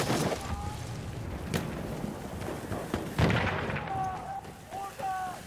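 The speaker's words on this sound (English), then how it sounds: "It's an enemy machine gun!" Enemy machine gun fire in a Battlefield 1 team deathmatch in the Sinai Desert, bursts of gunfire and booming shots mixed with a sharp blast and a voice speaking over the battle noise.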